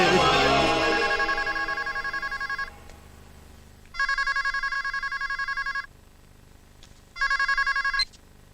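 A telephone ringtone rings in repeated electronic bursts, loud and near, with two clear rings after a noisier opening where other sounds overlap the tone.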